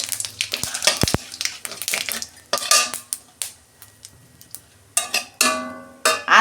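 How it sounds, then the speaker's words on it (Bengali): A bay leaf and whole cumin dropped into hot oil for a vegetable and fish dish, with bright crackling sizzle bursts and metallic clinks of a spoon and pan, loud and close, broken by short gaps. "একটা তেজপাতা দিচ্ছি, গোটা জিরে।"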